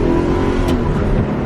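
A U-Haul moving truck drives and accelerates hard, its close engine roar and road noise loud and steady throughout with no voices.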